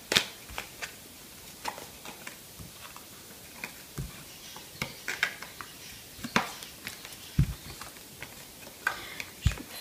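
Tarot cards are shuffled by hand in a series of soft, irregular flicks and riffles, close and quiet, with occasional light taps and no talking.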